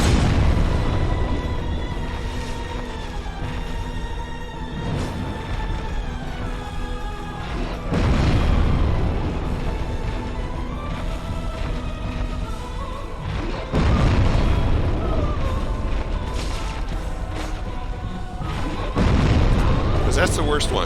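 Tree branches bursting apart in Dark Souls Remastered, heavy booming blasts near 8, 14 and 19 seconds over a dense rumbling game soundscape.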